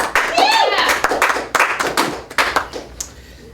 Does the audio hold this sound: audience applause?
yes